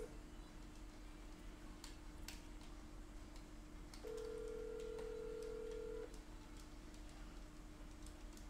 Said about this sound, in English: Who the heck called me, Slim?